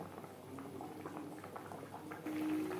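Bhola fish simmers gently in gravy, a soft, low bubbling with small pops, faint and continuous without voices.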